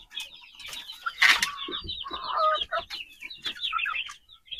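Javanese chickens cluck in a small flock, with overlapping bursts of near, moderately loud calls, a brief flurry of wing flapping and scattered chatter from the birds, no voices.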